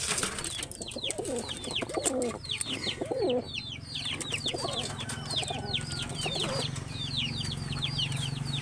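Pigeons give repeated soft cooing and burbling calls in quick overlapping series, near and moderately quiet, with some rustling and background hum and no talk.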